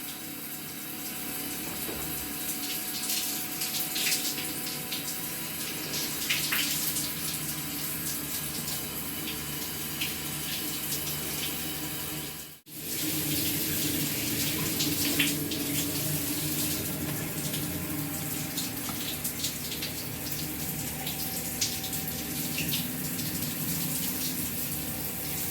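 Water runs from a tap in a hotel room in Kalamaki, Greece, a steady, close rushing flow that dips briefly midway before continuing unchanged.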